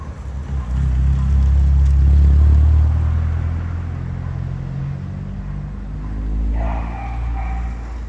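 A Chevrolet Kadett GLS engine runs close by, a loud low rumble that swells early on, then eases to a steadier hum with a slight rise near the end.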